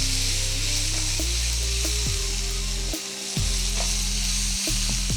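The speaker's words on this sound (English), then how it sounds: "Now onions, garlic I have added. Now we will add the curry leaves." Onions, garlic and curry leaves fry in a pan with a steady bright sizzle, loud and close, with a low hum and occasional faint clicks beneath and no voices.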